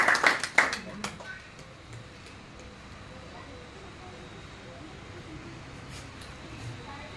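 Applause breaks out at a Punjabi ustad-shagird ceremony, a short burst of clapping from a small crowd that fades within a second or two, followed by low room murmur and talk.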